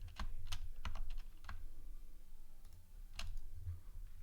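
Fingers type on a computer keyboard during 3D modeling work in Blender, with irregular bursts of close, crisp key clicks and short pauses between them, and no talking.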